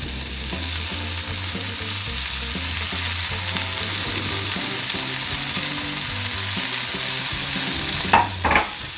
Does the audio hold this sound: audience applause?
no